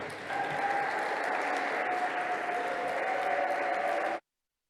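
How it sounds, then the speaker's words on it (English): Sustained audience applause fills a climate justice conference plenary as panelists are welcomed on stage, steady and dense for about four seconds before cutting off abruptly. "Let's welcome them all on stage with warm applause."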